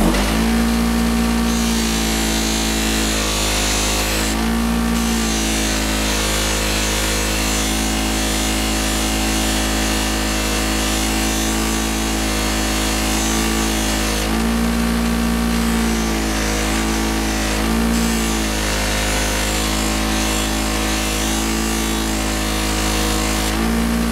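A power buffer whirs loud and steady against an aluminum motorcycle part, holding a continuous drone that dips briefly now and then as the part shifts, with no talk.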